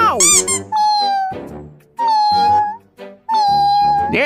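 A cartoonish cat in Sakura School Simulator gives three loud, close, drawn-out meows, separated by short gaps, with a squeaky high cry at the start.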